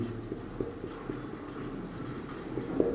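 Pen or chalk scratches across a surface in short, irregular strokes while a teacher writes a vitamin name during a science lesson, faint and close over a steady room hiss, with no talking.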